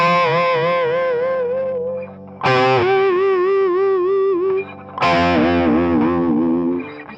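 Distorted electric guitar plays three held phrases with bends and vibrato, each attack loud and sustained, separated by short gaps.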